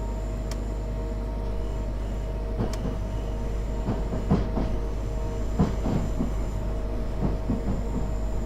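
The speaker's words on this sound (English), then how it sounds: "we're just gonna let the train pick up a little bit of speed" A train in the video game Train Simulator rolls along with a low steady rumble, rhythmic wheel clicks and occasional sharp squeals, and no one speaks.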